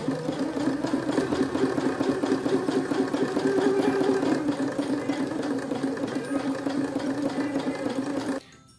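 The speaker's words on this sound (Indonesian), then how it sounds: "kemudian mulai menjahit" A sewing machine stitching fabric runs in a steady rapid whirring chatter, close and loud for about eight seconds before cutting off abruptly near the end.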